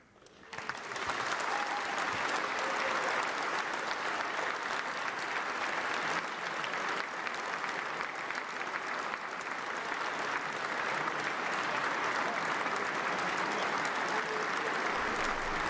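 Sustained applause rolls through the House chamber of the West Virginia state capitol in Charleston as Governor Jim Justice enters for the 2017 State of the State, a loud, continuous wash of clapping that swells in quickly and holds without letup.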